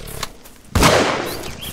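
Gunfire in the video game Squirrel Stapler: a faint pop, then one loud sharp shot that rings out and decays, with no talk.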